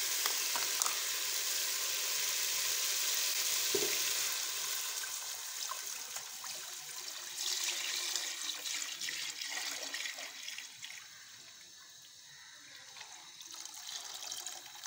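Lassi is poured into karhi in a hot pan, giving a steady loud sizzling and bubbling hiss that swells and fades with no talking.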